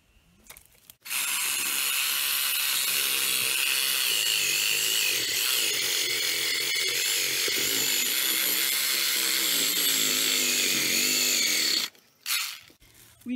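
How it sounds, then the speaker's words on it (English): Reciprocating saw cutting through an ornamental grass clump, a loud continuous rasping buzz that starts after a second, runs steadily for about ten seconds, then stops with a couple of short bursts. "This is when you take your reciprocating saw"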